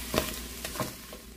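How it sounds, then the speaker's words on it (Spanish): Food frying in a pan on a home stove while being stirred, with a soft steady sizzle and a few brief scraping stirs, faint and close. "Les removemos un poquito para que se empiecen a freír poquito también"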